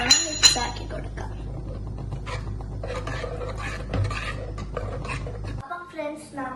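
Spoon stirring rasgulla payasam after cardamom is added, giving repeated scraping and rubbing strokes against the pot over a steady low hum, with a couple of sharper clinks near the start and a quieter stretch at the end.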